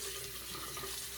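Water runs steadily from a tap into a bathroom sink before a safety razor shave, a continuous close hiss and splash with no voices.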